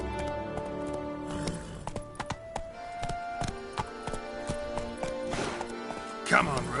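Roach the horse in The Witcher 3 clops along with irregular hoofbeats at a moderate level, while a voice speaks over them and game music tones sustain beneath.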